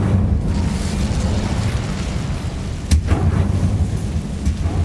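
A fire spell cast in the Hogwarts Legacy video game: a steady low rumbling roar with a sharp crackling burst near the middle, rolling on loudly throughout.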